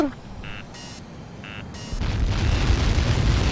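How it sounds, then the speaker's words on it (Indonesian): A sudden broadband explosion in Ace Combat 7 bursts in after a few electronic beeps, followed by a sustained rumbling roar. "Ada ledakan tiba-tiba."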